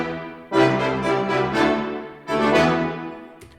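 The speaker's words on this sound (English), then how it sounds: "Of course, we can just make it shorts only," BBC Symphony Orchestra sampled brass playing short articulations only, two bright, punchy chordal fanfare phrases of quick stabs, close and loud with a brief tail at the end, no talking.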